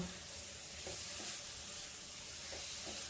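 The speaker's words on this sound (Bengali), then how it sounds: "মশলাগুলোকে ভালো করে তেলের উপর কষাই নিব।" A paste of cumin, ginger and green chili frying in oil gives a faint, soft sizzle, with a few light stirring scrapes at intervals. It sits low and distant, with no talking.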